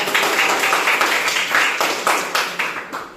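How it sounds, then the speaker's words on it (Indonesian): A small classroom group of students claps together for a classmate, a short burst of distinct, slightly uneven claps that trail off toward the end. "Kasih tepuk tangan untuk Zeni."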